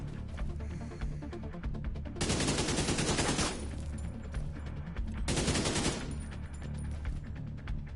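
Sustained automatic AK rifle fire in The Division 2 game, two dense loud bursts cutting through a busy backdrop of game music and effects, with a steady mechanical rattle between them.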